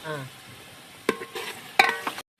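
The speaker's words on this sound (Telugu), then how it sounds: "బాగా ఎర్రగా అయ్యేంత వరకు కలబెట్టుకోవాలి" Food being stirred in a cooking pan, scraped in two or three sharp, clattering bursts over a faint background sizzle, ending in a brief cut to silence.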